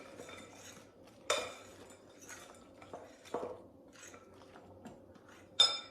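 Biscotti dry ingredients are mixed in a bowl, with scattered utensil scrapes and three sharper clinks against the bowl rising above a quiet, near-silent background.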